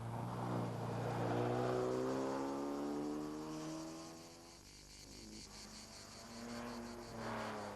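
Ferrari 275 GTB/C racing along a rally stage of the Tour Auto 1997, its engine rising in pitch as it approaches, then fading and swelling again, fairly loud and alone.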